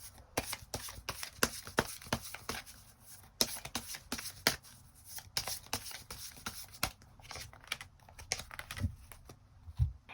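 Tarot cards are shuffled close by in quick, papery riffles and slaps, with short pauses between rapid flurries of card noise and no voices over it.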